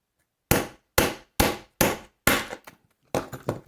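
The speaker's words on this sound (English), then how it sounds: "Then I just use my wire cutters and I just basically hammer through it" Wire cutters are hammered through a piece in six sharp, loud metallic strikes spaced about half a second apart, close by, with short rattles after the later blows.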